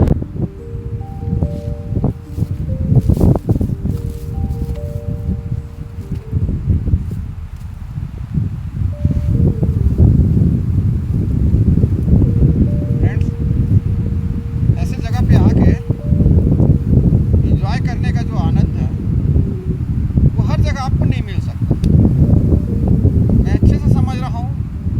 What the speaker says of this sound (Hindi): हवा का प्रेशर इतना ज़्यादा है,